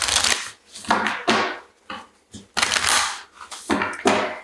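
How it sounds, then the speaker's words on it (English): A deck of oracle cards is shuffled close by, giving several quick riffling bursts separated by short pauses. "let's get into some oracle cards here"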